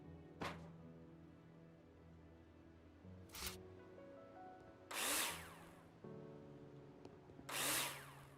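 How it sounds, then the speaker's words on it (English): Cordless power drill driving screws into metal wall profiles in the Builder Simulator building game: several short whirring bursts, the later ones louder and longer, separated by a low steady background hum. "place them in the holograms and screw them in with a drill"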